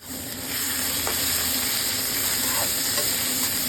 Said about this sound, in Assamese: এইখিনি অলপ ধুনীয়াকৈ ভাজি ল'ম।